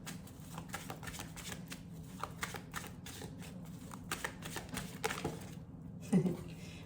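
Tarot cards are shuffled in a quick, soft, crisp riffle of close, quiet flicks and taps, running steadily and ending in a brief louder knock.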